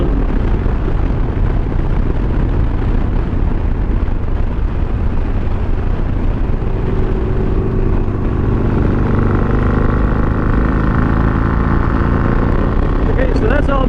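Harley-Davidson Iron 883 motorcycle held in fifth gear, its engine a loud, steady rumble throughout, the pitch climbing toward the end as the bike picks up speed.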